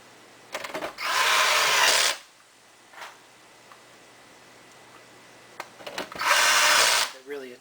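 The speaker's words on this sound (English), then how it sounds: "now we'll put in our 5 screws, the 5 wide thread screws." A power screwdriver drives screws into the bottom of a PS3 case in two loud whirring bursts of about a second each. Brief clicks and handling noises come between the bursts.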